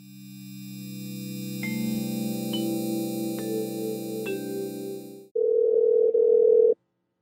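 A phone line placing a call to a cell phone drones with a steady, loud dial tone for several seconds, marked by a few faint clicks, then cuts to a single ringback burst that stops abruptly.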